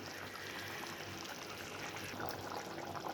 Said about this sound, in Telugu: నేను కొంచెం వాటర్ వేస్తున్నాను